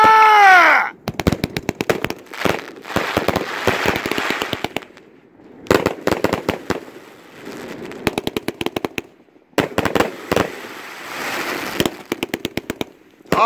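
A 100-shot firework cake going off outdoors, loud rapid bursts of cracking shots in quick volleys separated by short pauses, sharp and close, with a brief rising whistle at the start.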